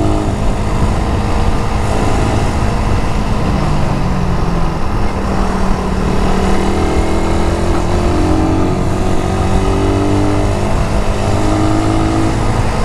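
A carbureted Suzuki Raider 150 motorcycle with a 14T-45T chain set rides on the road, its engine droning and climbing through the gears with steady wind rush, close and continuous.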